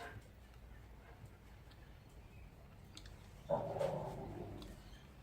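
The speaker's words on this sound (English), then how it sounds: "Growling and barking in the background as always." Dog growling and barking in the background: a low, quiet rumble, then a short burst of barking partway through, distant and faint in a quiet room.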